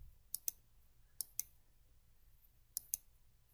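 Computer mouse clicks, close and quiet, in three paired double-clicks spaced about a second apart over a faint low hum.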